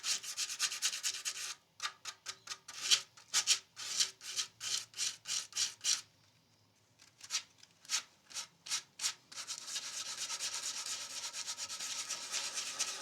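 A guitar cutaway is sanded by hand to remove scratches, with quick rhythmic strokes of dry scratchy rubbing in bursts. A brief pause comes before a steadier continuous rub.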